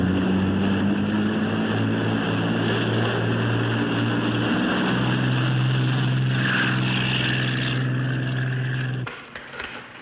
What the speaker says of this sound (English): only one helicopter